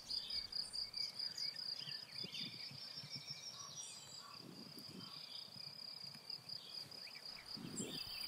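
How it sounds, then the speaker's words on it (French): Steady high-pitched chirping of crickets and grasshoppers fills a quiet meadow in spring, a continuous faint trill with occasional soft rustles underneath. "La prairie bruisse de toutes parts. Des centaines de grillons, des criquets, des sauterelles"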